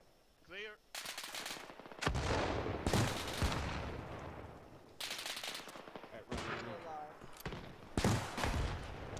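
Heavy gunfire and bazooka blasts ring out in ArmA 3 during an Africa campaign mission, with bursts of loud close automatic fire and sharp launcher shots separated by short lulls, and a voice speaking briefly near the start.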